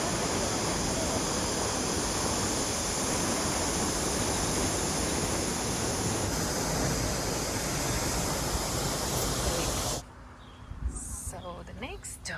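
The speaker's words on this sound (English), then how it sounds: "we reached our first destination, which was the Fane Waterfall" Fane Waterfall near Pakse, Laos pours in a dense, steady roar that fills the scene for about ten seconds, then cuts to a much quieter stretch with faint background sounds.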